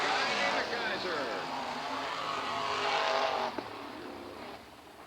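The 56 race car at Southern Oregon Speedway in 1996, its engine roaring loudly past and then dropping off sharply and fading, under a voice talking over it.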